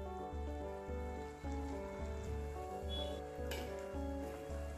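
Amla (Indian gooseberry) simmering in a pan for a long-keeping preserve, giving a steady, quiet sizzle and bubble over a persistent low hum, heard alone without talk.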